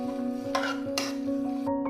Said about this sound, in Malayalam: ഇനി നമ്മൾ ഇത് ഹൈ ഫ്ലെയിമിലിട്ടാണ് ഒന്ന് വഴറ്റിയെടുക്കുന്നത്.